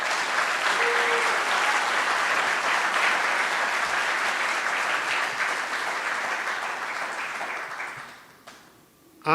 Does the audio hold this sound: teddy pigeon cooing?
no